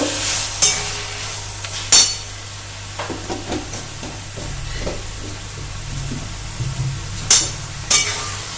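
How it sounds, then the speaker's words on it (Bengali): Sugar being stirred into a dish frying in a pan, with spoon scrapes and soft clinks repeating irregularly over a steady low sizzle, a few sharper knocks against the pan standing out. "এই চিনিটা দিয়ে আবার সুন্দর করে মিশিয়ে দেব।"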